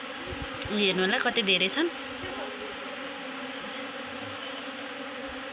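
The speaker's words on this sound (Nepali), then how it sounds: "यसरी मौरी आउँछन् यहाँ।" Bees swarm and buzz around their hive beside a rural house in Nepal, a dense continuous drone with a louder pass of wingbeats near the start; someone talks briefly over it.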